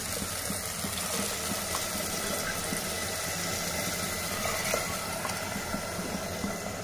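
Water pours into a pot of rice, sweet corn and spices for sweet corn egg biryani, giving a steady, even rushing splash that holds throughout with no talking.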